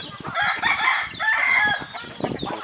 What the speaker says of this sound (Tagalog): Ito yung hapon, nagpapakain ng mga manok.